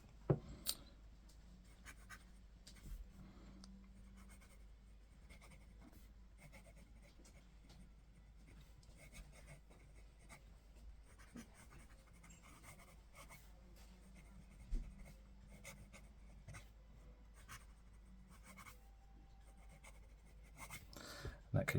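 A Jinhao x350 fountain pen writing quickly on paper gives faint, continuous scratchy strokes with small ticks and taps throughout, quiet and close, with no voices.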